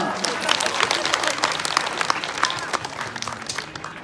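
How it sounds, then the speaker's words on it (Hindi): Listeners at a Hindu cow-devotion discourse clap together in a lively burst, the sharp overlapping hand claps fairly close and loud, with crowd chatter mixed in and gradually settling. "तालियां बजाओ एक बार"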